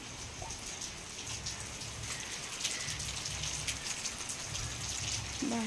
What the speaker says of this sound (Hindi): बाहर तो बहुत जोर वर्षा चली